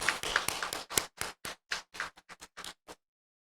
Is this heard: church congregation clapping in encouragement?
yes